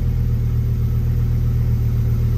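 A Fiat Marea's engine idles steadily up close, a low, even rumble with a faint pulsing throb that holds constant throughout.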